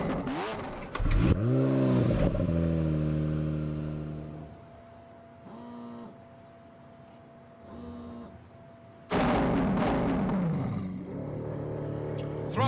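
A high-powered, 730-horsepower car engine in The Grand Tour video game roars and revs loudly, with rising pitch sweeps, a lull of steadier drone, then another hard burst of acceleration.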